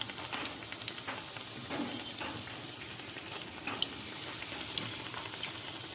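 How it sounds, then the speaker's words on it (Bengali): Eggplant fritters (beguni) frying in hot oil in a home kitchen, a soft steady sizzle with occasional sharper pops and crackles, fairly close and continuous with no talk over it. "বেগনি ভাজা হচ্ছে খিচুড়ির সাথে বেগনি।"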